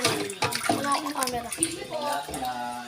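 Tap water runs steadily while something is washed and rinsed, splashing close by in an uneven stream as people talk over it.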